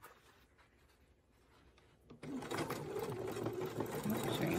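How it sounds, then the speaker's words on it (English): A home sewing machine stitches a jacket pocket to its side panel with a 3/8 inch seam allowance. After about two seconds of quiet it starts up and runs steadily, loud and continuous, to the end. "I'm sewing the pocket to the side panel first"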